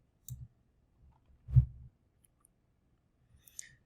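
A single computer mouse click, soft and close, stands out in near silence with a few fainter small clicks around it.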